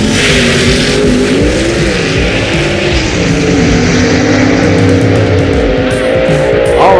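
Loud gasser-class drag race at a motorsports park, a 1963 Ford Galaxie facing a Plymouth Barracuda, with engines roaring continuously and revving under strain as the cars run side by side.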